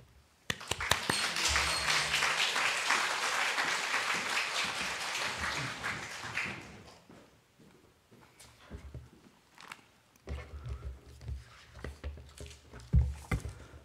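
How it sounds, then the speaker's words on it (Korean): A church congregation at a monthly prayer service claps warmly to welcome the pastor, a full round of applause lasting several seconds before dying away into quiet shuffling, soft thumps and movement near the microphone. "우리 목사님 모실 때 큰 박수로 환영하도록 하겠습니다"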